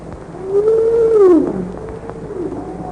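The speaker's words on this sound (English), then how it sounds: "Humpback whales singing." A humpback whale sings underwater, one long, clear moaning tone that rises and bends downward before trailing into fainter, lower calls, heard alone through an underwater sonar recording.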